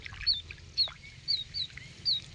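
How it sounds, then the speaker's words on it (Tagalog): Repeated high, squeaky wild duck calls sound about five times at a steady pace, moderately close, over a low rumbling background. "Wild duck yan"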